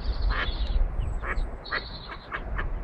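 Ducks quacking during an animal rescue, a series of short, harsh nasal quacks repeating every half second or so over a steady background rumble, fairly close.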